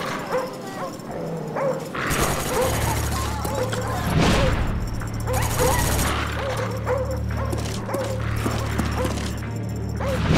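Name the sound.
dogs barking, friendly dog killstreak in a video game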